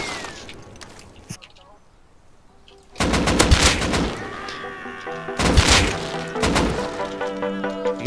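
Gunfire in the Rust video game aimed at a bear, quiet at first, then loud bursts of rapid shots in two clusters with impacts between them, a voice talking over the action.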